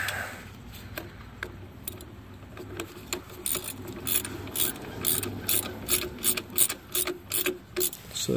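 Ratchet snugging down transmission pan bolts on a 2012-2023 Dodge Charger 8-speed, starting as faint clicking and building into loud, close bursts of rapid pawl clicks in short repeated strokes.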